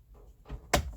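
A carbon fibre dipped trim piece is pressed into the inside of a Porsche 911 door panel, making a soft muffled contact followed by one sharp close click, with no speech.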